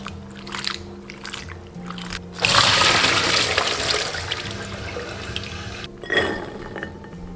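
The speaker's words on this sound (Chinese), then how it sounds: "加入小半碗绿豌豆，跟它一起清洗。" Corn kernels and green peas being rinsed in a bowl of water in a home kitchen, a loud splashing, sloshing wash rising after a quieter start and breaking off briefly before another burst.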